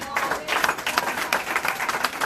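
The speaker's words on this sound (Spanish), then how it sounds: "Dale un aplauso fuerte." A church congregation breaks into loud applause during a sermon, a dense, continuous patter of clapping that carries throughout with bursts of louder hands, and faint voices mixed in underneath.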